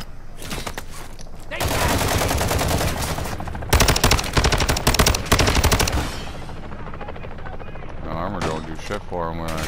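Light machine gun fire in Call of Duty Modern Warfare II comes as long, loud, rapid bursts, ending in scattered shots. A rotor-like drone runs underneath and voices talk near the end.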